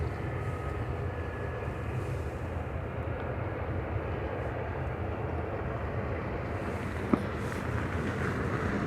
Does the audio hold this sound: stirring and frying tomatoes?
no